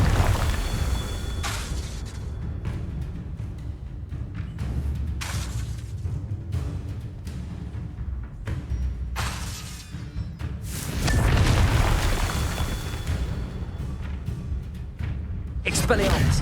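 Confringo blasting spells in Hogwarts Legacy, a series of sharp explosive bursts and crackling impacts repeating every second or two, mixed with voices and battle noise.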